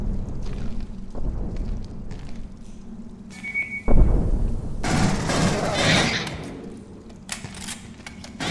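Gunfire in the video game Aliens: Colonial Marines comes in bursts of rapid shots among thuds and a heavy impact, with a dense noisy stretch of shooting midway, loud and busy throughout.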